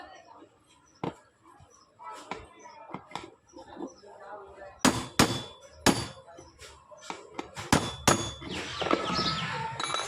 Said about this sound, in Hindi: बूस्ट अंदर बिठा के इसके ऊपर हथौड़ी से ठोकना आएगा ताकि अंदर सही तरीके से वो सेंटर में फिटिंग हो सके।